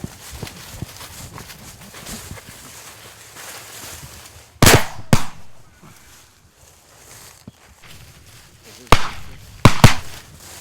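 Shotgun blasts fired at flushing pheasants during an upland hunt in South Dakota corn fields, loud sharp reports in two pairs of quick shots with quiet rustling and faint voices between them.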